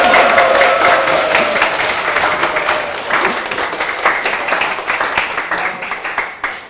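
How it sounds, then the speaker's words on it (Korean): Long applause from a room of students at the start of a lecture, a dense steady clatter of many hands close by that holds strong throughout and only starts to thin near the end. "박수가 긴 거 보니까"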